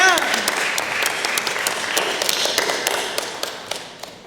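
A church audience applauds for Stefan, many hands clapping in a lively, fairly close burst that gradually thins out, with a voice starting to speak over it.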